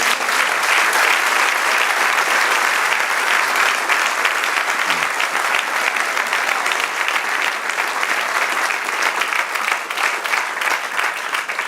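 A church congregation claps for the Lord in a Spanish-language service, producing long, loud and even applause that continues strongly without pause.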